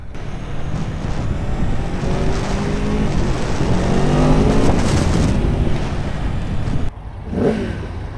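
A 2021 Aprilia Tuono V4 1100 Factory motorcycle roars loud and continuous while riding, its engine note rising and falling through gear changes, with no talk.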